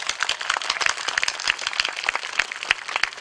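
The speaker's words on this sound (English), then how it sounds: "Give yourself a hand of applause" Rally audience in Jurong applauding at a 2015 Singapore general election rally, a steady crackle of many hands clapping at close range for a few seconds with no voices over it.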